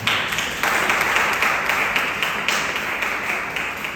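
An audience at a youth fellowship meeting in a hall applauds for Alvina, steady, dense clapping from many hands throughout.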